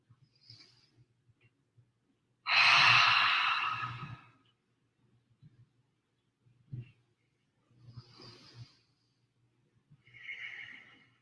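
Deep breathing during a yoga rocking exercise: one long, loud exhale stands out, followed by several softer, shorter breaths at close range in an otherwise quiet room.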